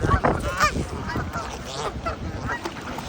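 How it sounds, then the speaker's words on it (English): Geese honk repeatedly at a wetland, where ducks such as green-winged teal and a killdeer are also present. The nasal calls overlap against a busy outdoor background. "Come on, fat goose, move!"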